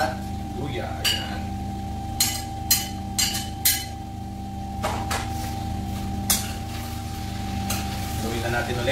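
Garlic, ginger and onion sautéing in a pan for Bicol Express, a steady low sizzle with several sharp clinks of a utensil stirring against the pan; no talk over it.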